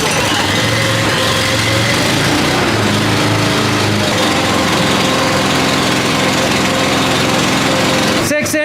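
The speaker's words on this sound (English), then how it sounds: "we got to start the engine to move the jack." A small farm engine started to move a jack runs steadily and loudly at idle, a continuous rattling hum that cuts off abruptly at the end.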